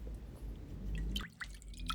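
Two large spoonfuls of oil are poured into a batter of salt, warm water and milk for pan-fried pancakes, giving soft, close dripping and liquid splashes.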